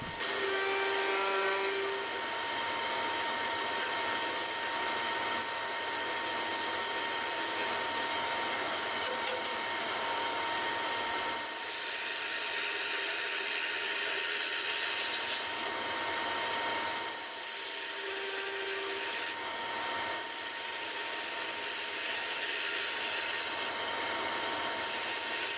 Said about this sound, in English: it's going to be a little bit easier to use a roughing gouge to create the conical appearance of the hat